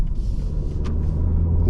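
A 2024 BMW M340i xDrive sedan drives along, heard from inside the cabin as a steady, loud, low road-and-engine rumble with a brief hiss partway through.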